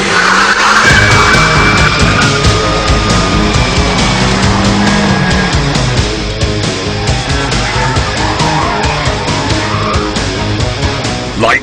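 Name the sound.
Nissan 200SX rear-wheel-drive coupe driven hard, tyres skidding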